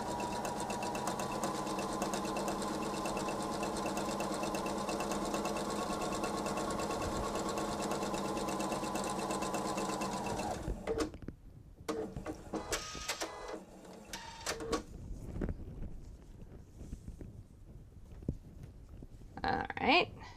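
A sewing machine stitches fabric for a table runner with a steady, loud mechanical whir for about ten seconds, then stops, leaving softer handling noises and faint clicks.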